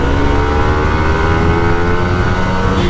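An old Kawasaki Ninja RR 150 two-stroke motorcycle holds a steady, buzzing engine note close by, running continuously without pause for the whole stretch.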